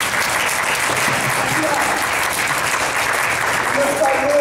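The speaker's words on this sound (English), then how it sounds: "Stand up and give yourself a clap." A crowd of young people at a parks and recreation awards gathering claps steadily, dense and loud sustained applause without a break, with faint voices mixed in near the end.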